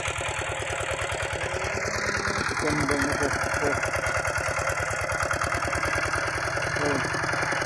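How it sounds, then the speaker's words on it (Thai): A large diesel tractor engine chugs steadily at idle with a regular low throbbing pulse, close by, while someone talks over it. "มันก็เพียงคือรถไถนี่แหละคือรถไถใหญ่นี่แหละ"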